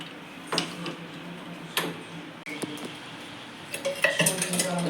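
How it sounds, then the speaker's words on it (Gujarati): A cooking pot being set back on a gas stove for making Maggi noodles gives a few sharp metallic clinks and taps, spaced apart, then a busier cluster of clatter at the end, fairly close. "હવે પાછી આપણે તપેલી મૂકી છે."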